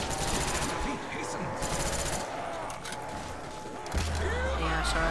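Rapid automatic gunfire in Call of Duty Black Ops Zombies on the Der Riese map: dense, loud bursts of shots over about five seconds, with clanking mechanical sounds and a low rumble rising near the end.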